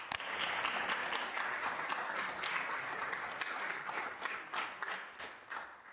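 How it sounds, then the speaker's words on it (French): Applause fills the chamber of the National Assembly of Québec during a motions session, a dense, steady wash of many hands clapping that holds for about six seconds, thinning slightly toward the end. "Applaudissez-moi."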